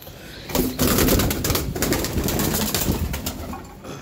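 Large breeding pigeons of a high-flying giribaz racing stock coo close by in a loud, continuous throaty rumble. The overlapping calls swell and ebb without pause.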